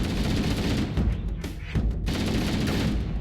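Dense, continuous gunfire from a Halo match rattles nonstop, loud and close, with a brief dip in the middle before the volley resumes.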